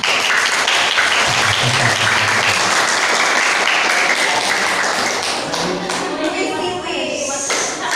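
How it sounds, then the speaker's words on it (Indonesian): A crowd claps steadily in dense, sustained applause at a school event that carries on throughout, with voices mixed in beneath it toward the end. "Ya, tepuk tangan."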